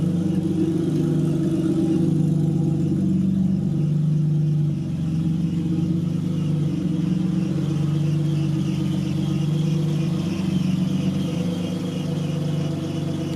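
Barn-find BMW E30 325i running outdoors, its six-cylinder engine holding a steady, loud idle with slight rises and dips throughout, alone with no talk.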